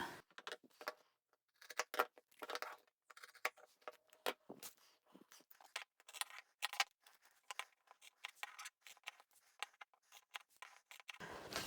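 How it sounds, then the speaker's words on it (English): Scissors cut out the fabric corners of a patchwork bag made from scraps, giving a series of close, crisp snips and crunches with short pauses between cuts. "So once we've got the corners marked, we can cut those out."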